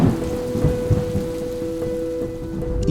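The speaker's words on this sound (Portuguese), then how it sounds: "foi nessa hora que veio a tempestade" Heavy tropical storm rain pours steadily on a surface with low rolling thunder beneath, dense and continuous with no voices.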